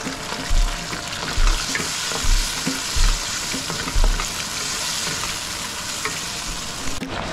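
Food fries in a pan with a steady, close sizzle, broken by about five heavier stirring scrapes at roughly one-second intervals.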